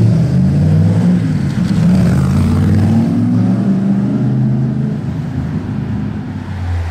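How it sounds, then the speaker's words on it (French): Shelby Cobra sports car in Monaco, a loud, deep engine roar close by that holds steady with a rising pitch, then eases slightly as it moves off. "Oh, ça a sorti la Cobra. Ça fait du bruit."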